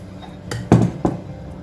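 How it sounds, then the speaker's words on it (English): A few hard clunks and clatters as chunks of June plum and cucumber drop into a blender jar, with a heavier thud in the middle and a lighter knock after. "I'm gonna add the June plum and the cucumber to the blender."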